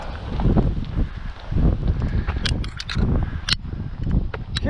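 Wind blowing outdoors on a warm day, gusting in uneven surges that buffet the microphone with low rumbling, with a few brief rustles and knocks over it.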